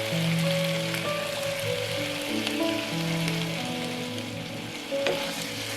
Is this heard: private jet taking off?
no